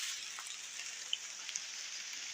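Steady rain falls outdoors in a rural Thai setting, a dense even hiss of drops with a few sharper single drips standing out, moderately close and with no talking.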